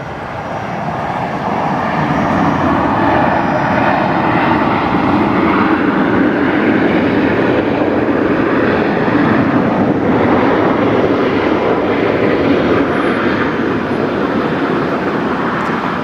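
A Virgin aircraft's jet engines roar at Brisbane Airport at night, a loud, steady, broadband rumble that swells in over the first two seconds and then holds continuously, with no voices.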